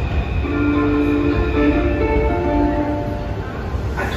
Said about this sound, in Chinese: 我要搭地铁了，好让人紧张。